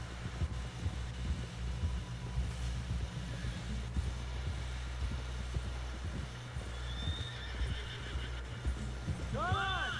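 Horse whinnies and neighs with steady clip-clop of hooves in Red Dead Redemption, a Western video game, over a constant low rumble and wind, with a higher whinny near the end.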